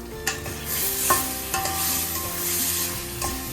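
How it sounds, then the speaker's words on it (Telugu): A spoon stirs chili powder into tomato bath simmering in a pan, with sizzling and several distinct scraping strokes over a soft musical backdrop. "ఇవన్నీ వేసుకుని ఒకసారి కలుపుకుందాము"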